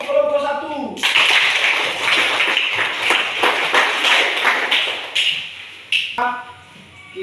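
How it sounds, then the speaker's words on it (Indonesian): A classroom group claps for a presenting team: several seconds of steady, fairly close applause from many hands, opening and closing with brief chimes, a voice just before it begins. "Mari kita berikan aplaus lagi untuk kelompok 1."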